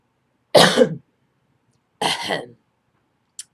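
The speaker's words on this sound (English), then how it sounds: "Let me clear my throat." Two rough throat-clearing bursts a second or so apart, close and fairly loud, followed by a tiny faint click.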